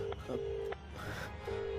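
A phone being dialed for a call: a few short electronic keypad tones sound in quick succession, then a longer steady tone, with faint voices and room noise under them.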